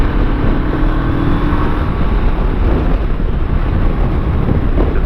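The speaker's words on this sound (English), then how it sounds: "It's a bit windy." Wind roaring against the microphone of a car on the move, a continuous loud, rumbling buffet with constant low road noise and no voices.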